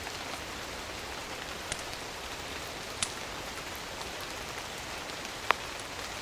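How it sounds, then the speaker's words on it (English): Steady rain pummels a village roof in a Legend of Zelda setting, a dense even hiss broken by a few sharp drip ticks and faint knocks, continuous and moderately loud with no talking. "Wind rattles the shutters and water pummels the roof."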